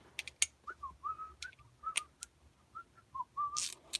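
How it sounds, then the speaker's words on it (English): Short melodic whistled notes by a person in a workshop during a shifter install, faint and intermittent, with a few sharp clicks and taps between phrases. "My whistling sucks."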